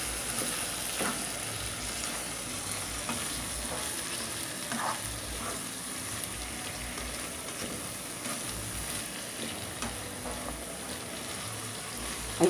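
Peeled, headless shrimp sauté in a pan with a steady, even sizzle that fills the background, close and fairly quiet, with faint scattered crackles and no voices.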